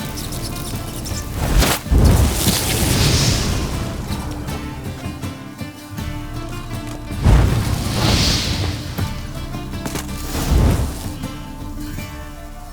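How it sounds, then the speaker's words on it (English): Magic fireworks burst from activated incense in the video game The Witcher 3: Wild Hunt, three heavy booming blasts with whooshing, crackling tails spaced several seconds apart over a dense, rumbling sound bed. "Get ready for some magic fireworks."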